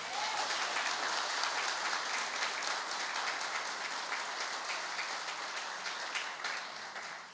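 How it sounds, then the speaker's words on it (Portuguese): A church congregation claps during an evening service, an even, continuous patter of many hands heard at a moderate distance and fairly quiet throughout. "Era para aplaudir o Senhor."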